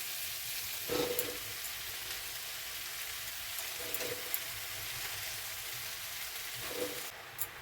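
Malabar spinach tossed into a pan of hilsa fish curry, giving a steady, close sizzle and frying hiss with a few brief louder crackling bursts.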